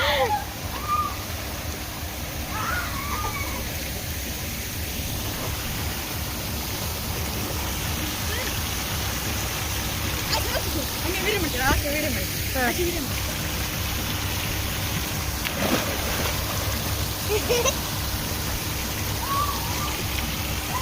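Water falling at an outdoor water park, a steady broad rushing splash like heavy rain that runs throughout at moderate distance, with faint voices and occasional shouts in the background.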